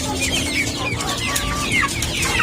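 Month-old Brahma chickens clucking and cheeping in a busy, close flock, overlapping peeps and soft clucks running continuously over a steady low background hum.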